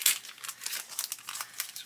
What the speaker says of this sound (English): The bag is opening from the top, which is very unusual.